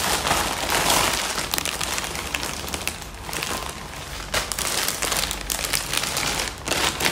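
A plastic bag holding hair extensions is opened, giving continuous crinkly rustling and crackling of thin plastic, close and fairly loud, with brief louder bursts throughout.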